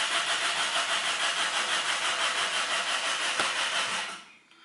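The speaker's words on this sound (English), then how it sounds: "Only starter runs and rotates this engine." Car starter motor cranking an engine that won't start, with a distributor cap swapped as a fix; a steady loud whirring crank runs evenly for about four seconds, then cuts off abruptly, with no talk over it.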